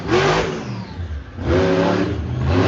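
Monster truck engine at a Summer Smash show in Evansville, revving hard to high RPM in two loud bursts with a brief dip between them, close and aggressive with no talk over it.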